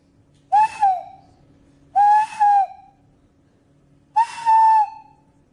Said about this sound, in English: My whistle. very high frequency.